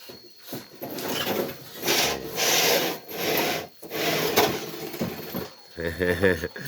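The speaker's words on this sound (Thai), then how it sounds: "นี่ก็ขูดผิวไผ่" A giant bamboo pole has its outer skin scraped by hand at a bamboo training workshop, giving repeated rough rasping strokes in bursts with short pauses, while someone talks over parts of it.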